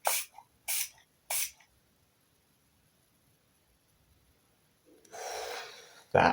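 Three quick hissing bursts of fragrance spray close by, then a long quiet pause, followed by a breathy rushing noise and one more short burst.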